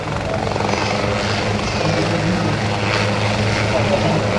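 A helicopter performing at the 2009 NAS Oceana airshow, its loud, steady rotor thump and engine roar filling the air continuously, with a voice talking over it.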